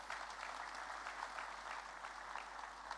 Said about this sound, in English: Please clap for yourself for coming.